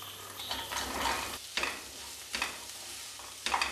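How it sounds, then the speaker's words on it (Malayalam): Onions sizzling in butter in a pan for butter chicken masala, a steady close frying hiss broken by a few stirring scrapes, with no talking. "മീഡിയം സൈസിലുള്ള രണ്ട് സവോളയാണ് ഇതേപോലെ കട്ട് ചെയ്തെടുത്തിട്ടുണ്ട് അതും ഇട്ട് കൊടുത്തൊന്ന് വഴറ്റിയെടുക്കണം"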